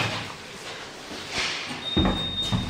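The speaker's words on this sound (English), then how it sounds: "That's that door open." An old lift door slides open with a rumbling rattle, then a clunk and a sustained high whine as it settles.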